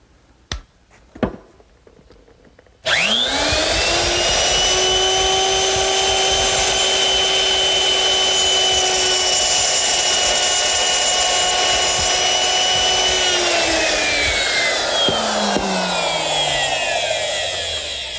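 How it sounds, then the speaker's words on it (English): A woodworking router fitted with a 1/4-inch round nose bit and guided by a rip fence cuts a groove in wood, spinning up after a few light taps and whining steadily and loudly for about ten seconds before winding down. "I'm going to use my router, which is set up with a 1/4-inch round nose bit and a rip fence."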